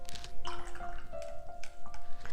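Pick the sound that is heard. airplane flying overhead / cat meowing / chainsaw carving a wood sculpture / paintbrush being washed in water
paintbrush being washed in water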